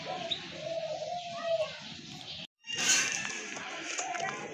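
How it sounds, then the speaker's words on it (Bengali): Bombay pigeons, a large-sized pair, cooing and calling in a pen, with soft bird vocalizations and background chatter continuing after a brief gap; no words spoken. "আরেক জোড়া কবুতর অনেক বড় সাইজের এক জোড়া বোম্বাই কবুতর"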